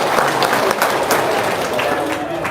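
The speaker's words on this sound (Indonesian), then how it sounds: "Tepuk tangan dong." Applause from a small gathering in an Indonesian home setting, a dense busy patter of clapping mixed with crowd murmur and voices, loud and close throughout.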